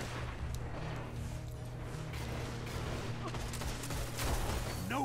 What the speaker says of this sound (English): They're just like fucking shooting.